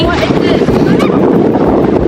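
Strong outdoor wind buffets the microphone with a loud, continuous rumbling roar near water where ducks are around, steady throughout the short stretch.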